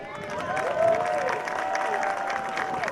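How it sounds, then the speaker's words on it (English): Distant crowd at a Thanksgiving Day high school football game applauds and cheers the Whitman-Hanson band, a diffuse, fairly faint wash with sustained band tones mixed in. "A big round of applause for this Whitman-Hanson band"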